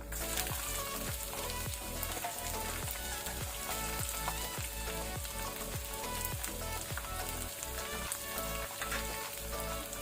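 Onion frying in oil with roasted urad dal, peanuts and chillies, a steady bright sizzle with rhythmic stirring scrapes repeating through it, close and even.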